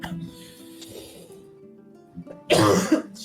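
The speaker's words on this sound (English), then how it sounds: "Sorry about all the coughing." A short cough near the start, then quieter sounds, and a loud, harsh cough burst close to the mic toward the end.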